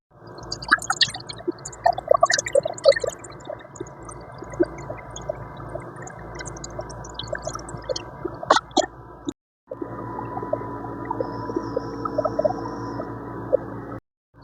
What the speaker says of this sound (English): I'm going to use this to boil the water